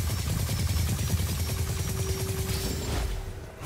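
Rapid, continuous fire from the Seren Maelstrom, a rare magic weapon in Immortals of Aveum, a dense unbroken stream of close, loud crackling shots with a faint tonal hum, no talking.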